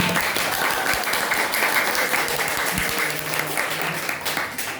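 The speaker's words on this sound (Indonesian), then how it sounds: "kita beri aplaus yang meriah buat kita semuanya" A class at the end of a lesson breaks into sustained applause, a dense wash of clapping that stays steady for several seconds before easing slightly.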